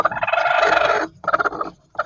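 A broody laying hen gives a run of harsh, throaty clucking calls, loud and close, broken by short pauses.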